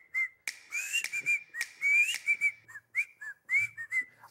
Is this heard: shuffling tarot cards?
no